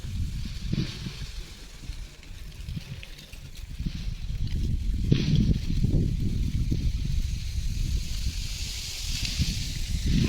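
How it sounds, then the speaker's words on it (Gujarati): Trees and leaves rustling in a strong wind near wheat fields and a hill, a low buffeting roar of gusts with soft leafy hiss rising and falling throughout, fairly faint. "ઝાડવા ખખડે એનો અવાજ છે પવનના લીધે"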